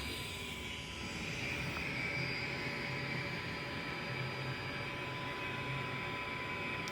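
A jet engine idles steadily after a cold start in a flight simulator, a continuous loud whine and roar with sustained high tones and no break.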